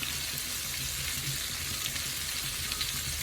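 Chili and spice powders fry in hot oil for an amla pickle, giving a steady close-up sizzle with a faint crackle and no talking.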